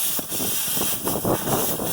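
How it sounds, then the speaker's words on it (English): Plasma cutter cutting through a truck mud flap on an F750, a loud close hissing rush of air with a fluttering, crackling edge, steady throughout with no talk. "Then with the plasma cutter, it goes through."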